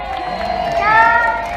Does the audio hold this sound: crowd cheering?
yes